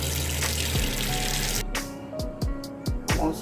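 Tap water rushes into a pot for pasta, a broad close splashing stream that cuts off partway, followed by a few clanks and knocks of the pot and sink.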